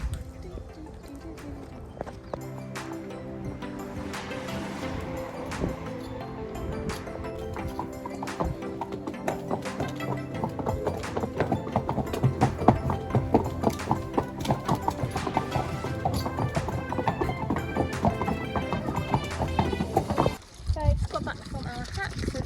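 Horses' hooves clip-clop steadily while being ridden out in a park in London, a continuous rhythmic clatter of several animals close by, with people talking over it.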